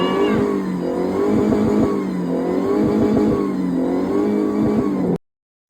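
A car engine revs hard while climbing a rough road to remote Latoma Tua in Konawe, Southeast Sulawesi. The loud, continuous roar surges up and down in repeated waves, with no talking.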